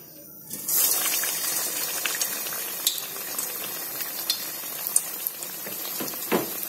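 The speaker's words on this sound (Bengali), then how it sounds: "তা চলো ভেজে ফেলি এবার।" Bread egg chops fry in hot oil in a wok over a low flame, making a continuous close sizzle and bubbling with scattered pops and crackles.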